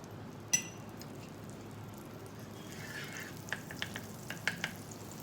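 Butter melting on a hot tawa gives a soft, faint, steady sizzle throughout, broken by a sharp clink near the start and a few light taps toward the end.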